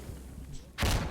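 A grenade in the shooter game Insurgency Sandstorm goes off with a sudden loud, broad blast near the end, after a second of quiet game ambience.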